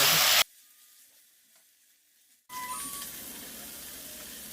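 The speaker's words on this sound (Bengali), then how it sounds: "এবারে এই সসের মিশ্রণটা জল দিয়ে গুলে রেখেছিলাম এটা ঢেলে দিলাম নাড়াচাড়া করে" A chilli chicken sauce mixture thinned with water hits the hot pan after a brief loud burst and a near-silent pause, then settles into a steady, moderately loud sizzle as it is stirred.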